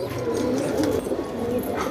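Pigeons at a loft in Gujarat, India, cooing in low, throaty murmurs, steady and close, with a faint outdoor hum underneath.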